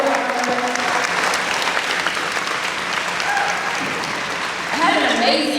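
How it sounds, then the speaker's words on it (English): Crowd applauding at a school rally celebrating an Olympic sprinter, a broad, sustained roar of clapping with voices rising through it and a brief swell near the end. "they deserve another round of applause"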